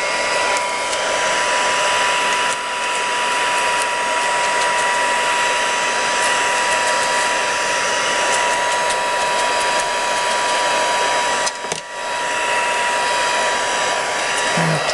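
A heat drying tool running on low speed blows over a card, a steady loud whooshing hum that continues almost unbroken with one brief dip near the end.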